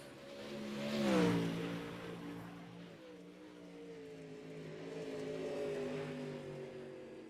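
A Pro Late Model race car engine revs out of turn four, a droning exhaust note that swells as it passes, fades, then climbs again at moderate distance with no talk.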